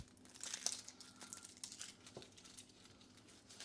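Dry papery onion skin peeled away by hand at a kitchen counter, with soft crinkling and crackling rustles throughout, a brighter crisp tear near the start, fairly quiet and close with no talking.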